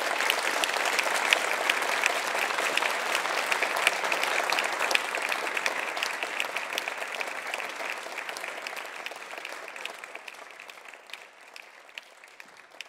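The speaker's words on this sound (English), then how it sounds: "may I ask all of us to celebrate Joan's wonderful work and join with me in a round of applause" Warm round of applause from an audience celebrating an artist's retrospective, steady and full-sounding clapping that slowly fades toward the end.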